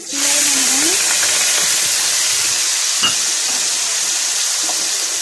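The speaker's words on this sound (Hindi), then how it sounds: "ऑयल हमारा गर्म हो चुका है। अब हम इसमें प्याज डाल देते हैं।" Sliced onions drop into hot oil and erupt into a loud, steady, hissing sizzle that continues evenly, with faint stirring sounds underneath.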